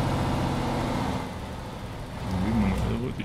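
A modded 12-cylinder truck engine in Euro Truck Simulator 2 hums low and steady, swelling slightly near the end, with a voice speaking over it.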